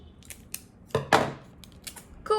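Scissors snip through strips of backing tape in a quiet room, a few crisp cuts with a louder rasping pair of cuts near the middle and small handling clicks between them.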